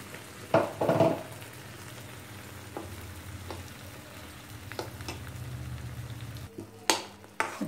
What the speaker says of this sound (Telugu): ఇప్పుడు ఈ మసాలా కొంచెం ఈ నూనెలో వేయించాలండి.